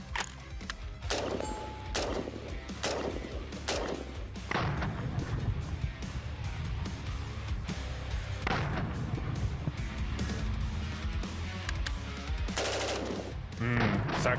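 A G36 rifle fires full auto in loud, rapid bursts that repeat across the clip, booming and echoing outdoors, with short gaps between strings of shots.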